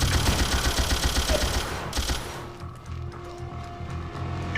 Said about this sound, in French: Je recharge mon arme.